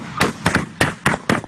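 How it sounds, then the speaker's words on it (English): Gunshots outside a family home in Ypsilanti, five sharp loud bangs in quick succession about a quarter second apart, each with a short echoing tail. "That's the sound of gunshots as Terrell did a Facebook Live"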